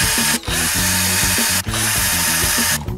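A power tool, most likely a cordless drill or driver, unscrews the bolts on a bicycle handlebar clamp in three loud close bursts of whirring with brief pauses between, each burst with a ratcheting, pulsing tone and no talking.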